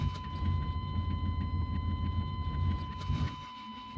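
An old pickup truck's engine runs with a steady, noisy low rumble and a faint whine on top, continuous for several seconds before briefly dropping off near the end.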